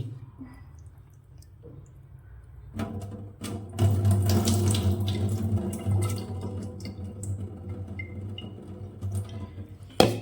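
Water being poured off soaking food in a home kitchen, a splashing, gurgling stream that starts abruptly and runs for several seconds with drips, close and fairly loud, with no talking over it.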